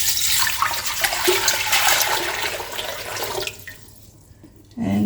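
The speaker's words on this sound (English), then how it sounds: "And we'll just put in some water." Water running forcefully into a large stock pot, a loud rushing pour that stops abruptly near the end, followed by a brief clunk.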